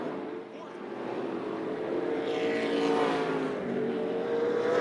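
Super Late Model race cars roar around Tucson Speedway in a steady, loud engine drone that swells slightly as the pack passes, with an announcer's voice heard over the noise.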